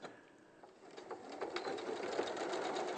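Sewing machine stitching down quilt squares, a steady close mechanical whir that builds and holds for a few seconds without talk.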